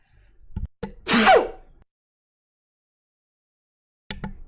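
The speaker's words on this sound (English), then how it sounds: "And I'm going to sneeze." A single loud, close sneeze bursts out after a couple of short breaths, followed by silence and then a faint return of voice sounds.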